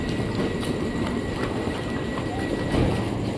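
An Indonesian KRL commuter electric train built by INKA pulls out of a station bound for Jakarta Kota, giving a steady, close rumble with faint rail clatter and a slight swell toward the end.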